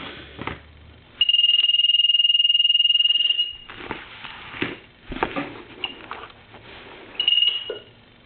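A basketball-shaped telephone plugged into the line rings in a long buzzing burst, then a second shorter ring, with clunky handling knocks between them.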